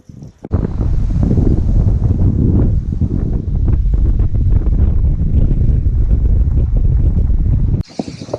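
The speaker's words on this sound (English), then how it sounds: "here we are on Kalua Beach" Strong wind buffets the microphone on Kalua Beach, Oahu, a loud steady roar that masks the surf and waves beneath it, cutting off abruptly near the end.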